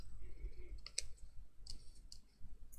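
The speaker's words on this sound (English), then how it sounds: "I'm just going to cut this along the line." Long-bladed scissors cut paper along a marked line during die-cut crafting, with a few crisp close snips and clicks spread across a quiet background.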